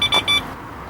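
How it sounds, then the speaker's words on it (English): Carp fishing bite alarm at a lakeside bivvy giving a few quick electronic beeps, three short bursts within a second, close and loud, then falling quiet. "Oh, my alarms do work."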